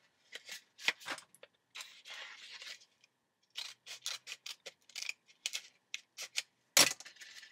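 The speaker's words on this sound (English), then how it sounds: "So we just cut along here, just cut along the one edge" Scissors snipping along one edge of a paper envelope, a series of short crisp cuts in quick bursts with brief gaps, close and fairly quiet, with a sharper paper rustle near the end.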